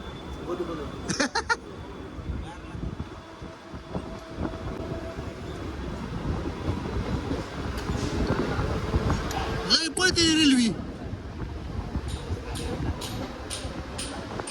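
A train in Mumbai runs along the rails with a continuous heavy rumble, a few sharp clanks and a brief metallic squeal, while voices chatter throughout.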